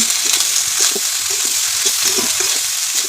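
Ridge gourd sizzling in hot oil in a pan while being stirred, a loud, close, continuous fry with scattered scraping and clinking of the spoon against the pan.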